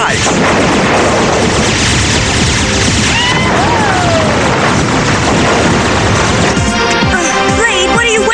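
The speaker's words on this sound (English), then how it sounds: "I don't know how much longer we can sustain this barrage." A dense barrage of artillery fire in a 1992 animated series: loud, continuous blasts, booms and crashes overlap without pause, with whistling and whooshing effects layered through the chaos.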